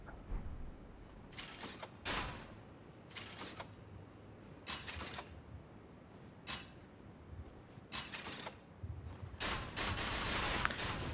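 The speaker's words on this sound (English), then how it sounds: "Once in ready stance, crank the handle to fire bolts and rapid fire." A mechanized crossbow in Elden Ring is cranked to rapid-fire bolts, producing bursts of sharp clacking shots and mechanical creaks spaced irregularly, fairly close and crisp against a quiet background.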